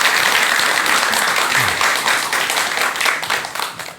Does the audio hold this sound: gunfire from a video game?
no